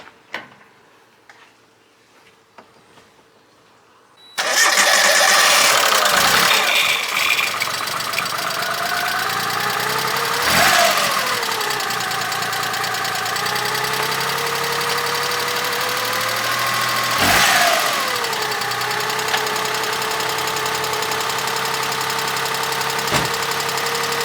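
A Geo Metro engine, freshly rebuilt after a valve job, cranks after a few quiet seconds, catches and settles into a steady idle with rising and falling revs and a light ticking, close and loud.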